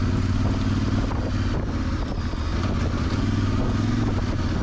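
A Voge DS800X Rally motorcycle rides an off-road trail in Cornwall, its engine a loud, steady drone close to the microphone with some wind buffeting and no talk.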